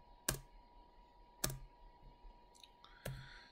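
Three sharp, isolated computer keyboard key clicks, spaced about a second apart, close and clear against a quiet room while undoing a chamfer in AutoCAD.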